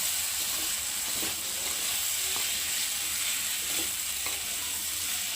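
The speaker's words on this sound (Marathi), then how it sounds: "ती पण आपण चांगली भाज्यांबरोबर तेलामध्ये परतून घेऊया." Vegetables and spicy sev sautéing in hot oil in a pan, a steady close sizzle with occasional stirring scrapes and clicks throughout, no voices.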